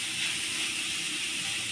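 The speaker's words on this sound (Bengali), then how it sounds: "শুধু চিনি দিয়ে ভেজে নেব।" Grated carrots frying with sugar in a pan for halwa give a steady, close hiss that holds even and unbroken from start to end, with no voices over it.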